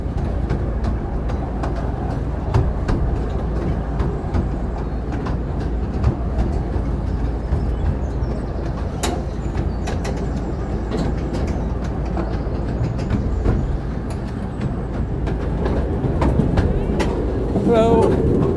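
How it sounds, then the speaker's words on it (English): Rumbling ride on a small theme park train at Drayton Manor leaving Knapford Station, with steady rolling noise, scattered clicks and clacks of the wheels, and voices faintly in the background. "we're on the train now, about to leave Knapford Station"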